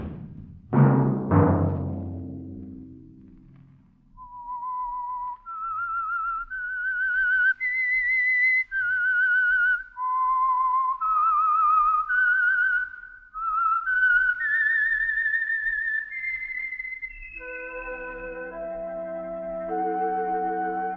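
A clear whistled melody plays alone as the theme of The Whistler radio drama, following a sharp initial hit, with sustained notes rising and falling before ending on a held chord-like tone.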